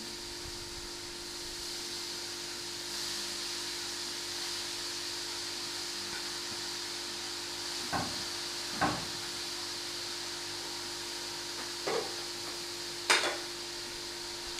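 Fenugreek greens stirred in a cooking pot for saag gosht, a low steady sizzle running throughout with a few sharp utensil clinks and scrapes toward the end, no voices.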